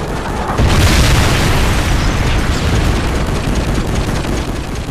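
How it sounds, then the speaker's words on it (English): A Predator missile strike explodes during a Modern Warfare 3 multiplayer match, a sudden loud, deep boom that rolls into a long, rumbling roar and debris wash, fading only slightly over several seconds. "Friendly Predator missile inbound."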